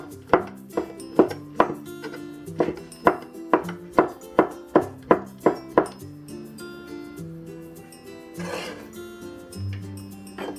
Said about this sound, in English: And we'll also cut it in shreds.